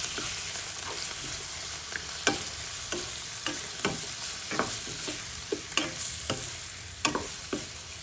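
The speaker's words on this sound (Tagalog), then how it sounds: "Then put pork, 1/4 kilo pork. And saute it." A quarter kilo of pork sautés in a pan, a steady close sizzle broken by regular sharp scrapes and taps of stirring throughout, with no talk.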